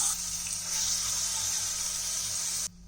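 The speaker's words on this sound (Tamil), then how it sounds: "இந்த ஜார் வந்து வாஷ் பண்ணி அதில் கொஞ்சம் தண்ணி இருக்குல்ல அதையும் அப்படி சேர்த்துக்கோங்க" Rinse water from a grinder jar gushes steadily into a pan of kulambu with fenugreek, curry leaves and masala for close to three seconds, then cuts off abruptly, leaving near silence.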